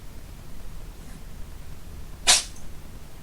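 A single short sneeze bursts out sharply from somewhere nearby during a quiet crochet lesson, a brief loud puff against faint background hiss.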